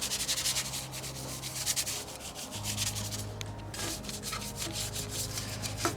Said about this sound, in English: So now I'm gonna get the brush,